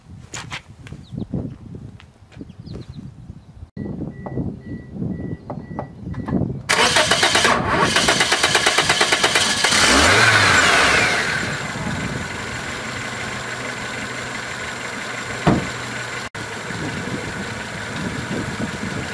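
A 2008 Toyota Corolla with a new ignition coil and a suspected engine fault cranks, catches and starts, then settles into a steady idle after some quiet clicks and handling noises.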